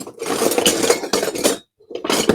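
Kitchen utensils clatter and clink in a drawer as someone rummages for a spatula, in loud close bursts with a brief pause before a final rattle.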